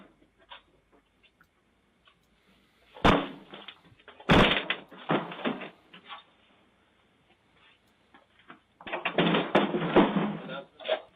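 Police in Chandler, Arizona force a house door, producing two sharp, heavy bangs a second apart. Scattered thuds and a longer burst of clattering noise follow, with faint voices in between.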